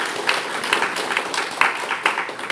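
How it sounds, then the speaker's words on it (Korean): Church congregation applauding during a Sunday worship service, a dense wash of many hands clapping at once, steady and moderately loud throughout with no talk over it. "박수를 한번 칠까요?"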